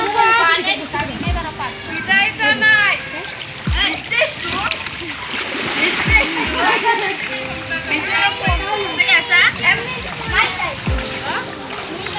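Children swimming in cold water splash repeatedly and sloshily at close range while excited kids shout and chatter throughout.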